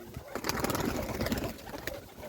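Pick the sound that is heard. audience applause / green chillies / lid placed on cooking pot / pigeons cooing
pigeons cooing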